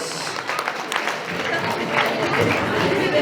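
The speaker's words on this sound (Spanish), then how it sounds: "Muy bien, fuertes los aplausos." Guests at a wedding in Jauja applaud together, a steady wash of clapping from a crowd that swells slightly toward the end, with murmured voices mixed in.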